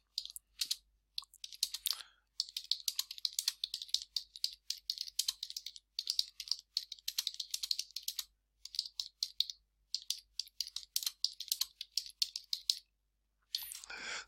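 A computer keyboard is being typed on to write a social media post: quick, light clicking keystrokes in steady bursts separated by short pauses, close and fairly quiet, with no talking.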